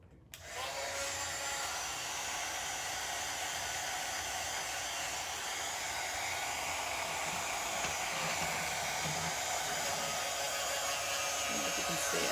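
A hair dryer blows steadily on hair close by, switching on with a click and then holding a loud, even whoosh and whine for the whole stretch, with a faint voice now and then underneath.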